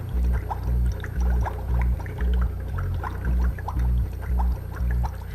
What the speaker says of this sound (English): So I'm just blowing air from my body that's got lots of CO2 in it.